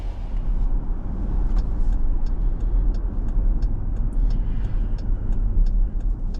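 A 2023 Dodge Durango R/T AWD pulls away, giving a steady, continuous hum of engine and road noise with a deep low rumble that stays even throughout, with no talking.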